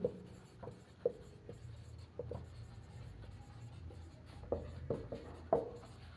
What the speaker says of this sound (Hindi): ब्लैक मार्कर से लिखते हैं ताकि आपको भी अच्छा लगे देखने में